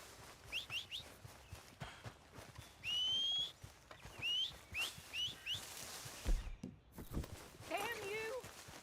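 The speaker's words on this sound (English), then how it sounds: "I'm whistling at her." A character in the video game Red Dead Redemption 2 gives several short, chirpy whistles, mixed with hoofbeats or footsteps and other game sounds, while a person talks over them.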